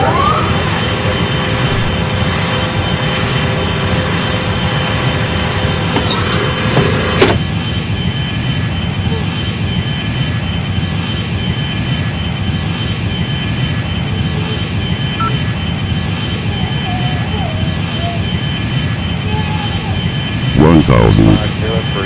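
Boeing 777 jet engines in the Airline Commander game give off a loud, steady whine and roar that shifts tone partway through, with radio voices over it.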